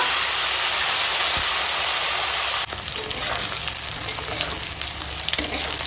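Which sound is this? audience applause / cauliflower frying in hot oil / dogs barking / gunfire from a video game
cauliflower frying in hot oil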